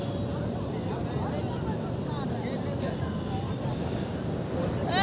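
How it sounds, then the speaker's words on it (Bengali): A fishing trawler boat comes in at sea off Puri, its engine a steady low drone blended with strong wind and surf noise that stays constant and close throughout. "ট্রলারটা চলে এসছে, নৌকাটা চলে এসছে।"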